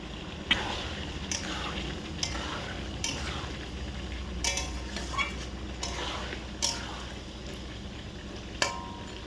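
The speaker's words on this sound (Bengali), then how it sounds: "প্রথমে ভেজে রাখা আলুগুলো দিয়ে দেওয়া হলো" Fried potatoes go into a pan of country chicken curry and are stirred in, giving soft scraping and sloshing with intermittent sharp clinks of a utensil against the pan over a low background hum.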